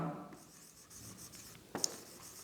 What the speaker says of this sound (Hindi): यहाँ पर हम लिखते हैं कि